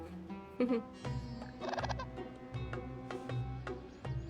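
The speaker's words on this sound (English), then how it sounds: "Birds are chirping." Birdsong at a camping spot in the video game Genshin Impact's Cyno Story Quest, a few clucking and chirping calls rising over soft ambient game music, fairly close and clear.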